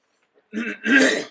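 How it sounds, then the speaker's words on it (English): A single short cough, a quick throat-clearing burst followed by a harsher cough, close and alone in a quiet room. "I just coughed."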